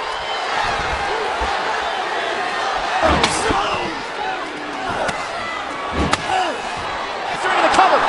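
A wrestling video game finishing move, the F5 slam, lands with a loud impact thud over constant arena crowd noise, with several more sharp slams scattered through the clip.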